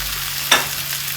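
Finely chopped tomato dropped into a pan of frying okra masala, a brief close burst of sizzle over a steady background hiss of frying.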